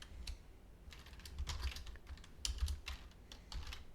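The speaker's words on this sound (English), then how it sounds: "I can also type it in" Someone types a command on a computer keyboard while working in Rhino 3D software: quiet, irregular clicking keystrokes in small clusters, close and alone with no talking.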